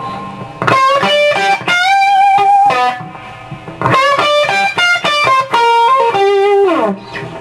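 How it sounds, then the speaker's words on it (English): An electric guitar through a Boss Blues Driver overdrive pedal plays loud, sustained overdriven chords and bends, gritty and saturated, in short phrases with brief pauses between. "Now I'll kick on the blues driver with the level up at about 3 o'clock"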